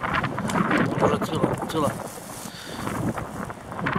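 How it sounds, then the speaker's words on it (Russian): Wind blows across the hills at Abram-Mys near Murmansk and buffets the microphone, making a steady rumbling roar under a person talking close by. "Ветер, наверное, меня плохо слышно."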